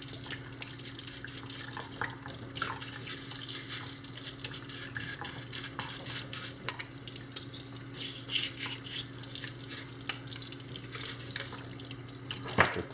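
Water runs and splashes steadily while parts of a Jebao WP40 aquarium pump are rinsed, a continuous close hiss with small clatters throughout.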